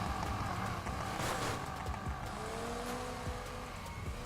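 Engine noise of a ghost car in the racing video game Need for Speed Heat, a loud continuous motor drone with rising pitch sweeps that stays close and steady throughout, with no talking.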